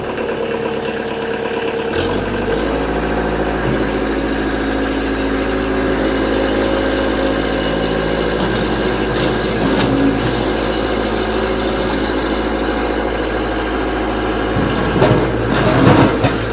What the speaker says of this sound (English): Guys, we're going to fire this tractor up.